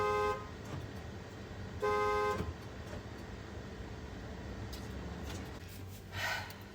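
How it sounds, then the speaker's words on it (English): A locked van's car alarm sounds after its engine is started, giving a loud steady honking tone, a pause, then a second honking burst, with engine and road noise continuing underneath on a hot day in Georgia. "If I turn the engine on while the car has been locked from the inside, the alarm rings."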